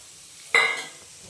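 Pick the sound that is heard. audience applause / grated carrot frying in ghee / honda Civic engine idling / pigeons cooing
grated carrot frying in ghee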